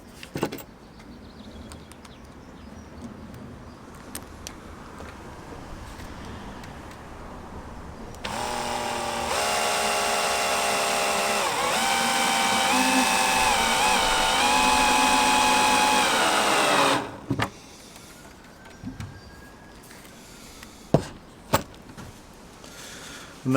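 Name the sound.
power driver screwing screws into a poly beehive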